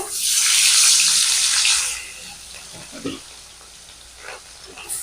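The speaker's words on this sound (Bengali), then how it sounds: "এবার মাছ দিয়ে দেবো তেলে তেল গরম হয়ে গেছে" Katla fish pieces hit hot oil with a loud rush of hissing spatter that lasts about two seconds, then settles into a quieter crackle with faint scattered kitchen noises.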